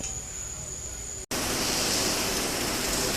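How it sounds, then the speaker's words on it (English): Heavy rain pouring outdoors in a chicken yard, a loud, dense hiss that cuts out abruptly for an instant and then resumes even stronger and steadier. "Well, it's pouring buckets."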